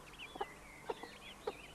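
Chickens kept in a permaculture setting cluck softly in a few short, separate calls, quiet and close against a low background.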